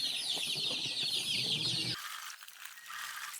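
Three-day-old pet chicks chirp busily in their cage while it is being cleaned, a dense, close chatter that cuts off abruptly partway through, leaving faint scattered peeps and no voices.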